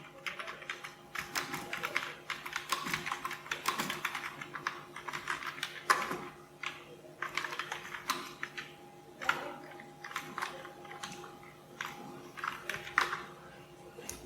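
Java code being typed on a computer keyboard: steady, close bursts of rapid key clicks with short pauses between runs, and no talking.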